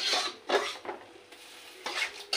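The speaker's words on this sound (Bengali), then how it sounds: "এবার মশলাটাকে একটু জলটা দিয়ে কষিয়ে নেবো" Spice paste cooking with a splash of water in a pan is stirred in repeated scraping strokes, and a light sizzle runs beneath the close, rhythmic spoon movements.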